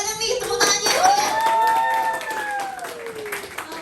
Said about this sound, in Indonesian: Boleh dong nih tepuk tangannya dulu ya.